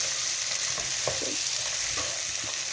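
Kidney beans and carrots sautéing in a pan, a constant close sizzle with a few soft spoon-scraping stirs over it, no voices.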